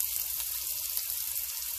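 Onions dropped onto sweated-down peppers in a hot pan for a Chinese-style pork stir-fry, giving a steady, close sizzle with faint scraping stirs throughout.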